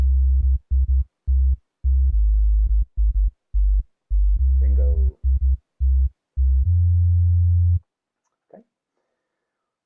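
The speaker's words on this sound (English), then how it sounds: "by throwing the attack up, we've kind of softened the way that the sub bass comes in" A series of deep synthesized sub-bass notes with gentle, rounded onsets, pulsing in a rhythmic pattern, then one held longer note; a single spoken word follows.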